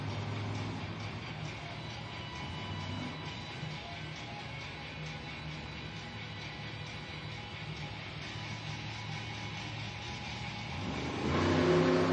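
A Megalodon monster truck at a Monster Jam stadium event holds a loud, steady engine drone, then revs up harder at the very end over constant arena noise.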